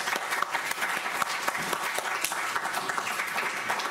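Audience applause welcoming a speaker to a talk on Māori traditional knowledge and the All Blacks brand: dense, steady clapping from many hands, sustained at even loudness throughout with no voices over it.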